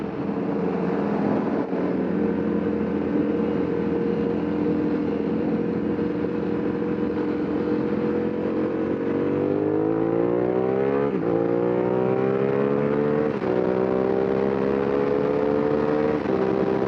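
Motorcycle engine pulling hard through clutchless quick-shifter upshifts, a steady droning tone that climbs in pitch and then drops with each quick gear change in the later seconds, loud and close with no talking.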